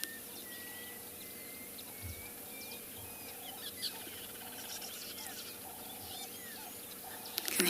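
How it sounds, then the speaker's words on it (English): Several birds call at a South African safari reserve in the morning, with faint repeated chirps and whistles scattered through quiet bush ambience and a soft rustle near the end. "I can hear so many bird calls."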